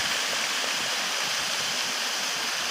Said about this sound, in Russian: Сахалин, река Рудановского.